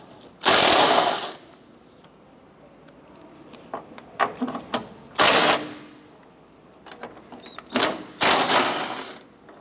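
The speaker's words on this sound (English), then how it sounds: "I'm going to remove our 3 14-millimeter nuts." A ratchet loosens 14 mm nuts on the strut of a 2008–2012 Honda Accord, giving several separate bursts of clicking and metallic rattling with quiet pauses in between.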